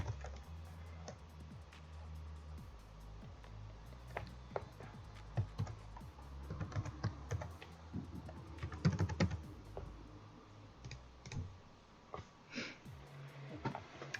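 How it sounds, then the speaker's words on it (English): Someone types on a computer keyboard nearby, with irregular bursts of key clicks and a few louder taps over a low background hum, and no speech. "And now we will just type Google"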